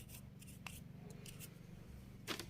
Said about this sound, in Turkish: Bunları şöyle bir fırça yardımıyla temizliyoruz.